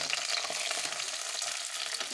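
Ginger and onion fry in a pan with a steady, broadband sizzle that holds at an even level and carries faint crackles and the occasional stir.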